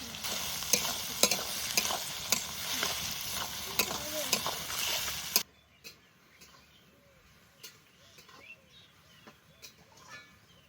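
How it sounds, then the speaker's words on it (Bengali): Onions fry in oil with bay leaf, cumin, cinnamon, cardamom and cloves, a loud sizzle with repeated sharp stirring clicks that suddenly drops away, leaving a quiet background with faint scattered chirps. "পেঁয়াজ ভালো করে ভেজে নিয়েছি"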